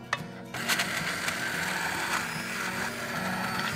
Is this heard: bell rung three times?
no